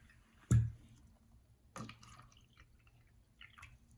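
Water poured out for a classroom science experiment: one sharp splash at the start, a second pour a little over a second later, then scattered faint drips and trickles in a quiet room.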